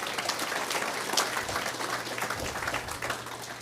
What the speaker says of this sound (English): y'all give them a round of applause